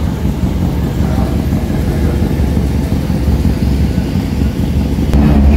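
A rally car engine roars loudly and steadily close by at the 2023 Sanremo Rally, with a rough low rumble that swells slightly toward the end.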